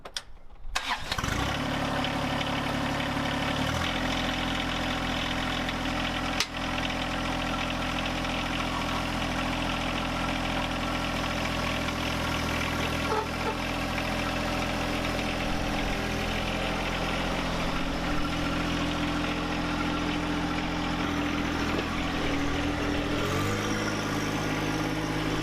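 A John Deere 1025R compact tractor's engine idles steadily and loudly nearby, a constant drone with a brief shift at the start and another near the end, and no talking.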